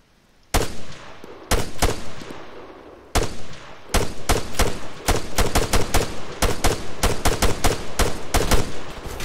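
Infantry gunfire in ARMA 3 opens with a few separate loud shots, then builds into rapid, repeated bursts of rifle and automatic fire, close and sharp, continuing without pause.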